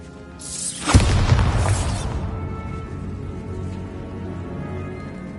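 Bombarda blasting spell explosion in Hogwarts Legacy, a sudden loud boom with a crashing burst that rumbles briefly and then settles into a low lingering roar.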